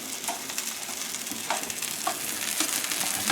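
A lobster tail frying in a pan with butter gives off a steady, close sizzle with a few sharper pops and crackles scattered through it, and no voices.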